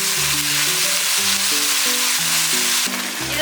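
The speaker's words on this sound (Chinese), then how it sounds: "先把鸡肉炒熟。" Chicken stir-fried in oil in a hot wok, a loud steady sizzle running throughout with soft tonal clinks and scrapes underneath; no voices.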